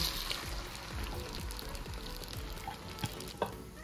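Hakka noodles frying in butter in a pan, a steady close sizzle with scraping stirs and occasional crackles.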